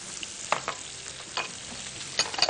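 Chopped onion goes into a hot pan with butter and meat and is stirred and sautéed, giving an even sizzle broken by a few scraping stirs. Close, with no talking.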